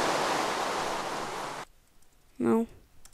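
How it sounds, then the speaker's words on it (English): Minecraft rain pours as a dense, steady hiss for over a second and then cuts off abruptly, leaving near silence broken by a brief voice. "Oh no, I hate it when it rains."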